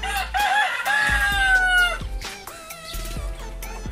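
Backyard chickens, young stags and hens, sound close and loud: a drawn-out crow with rising and falling pitch, followed by a jumble of clucks and squawks, and nobody talks over them.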